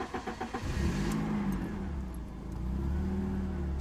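A car engine cranks with a few quick stuttering turns, catches, then idles and revs in a steady mid-pitched rumble, close and fairly loud with no talking.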